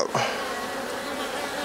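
Honey bees buzz in a continuous, fairly close drone during a hive inspection, with a brief rustle at the start.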